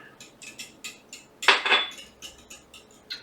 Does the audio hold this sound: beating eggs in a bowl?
yes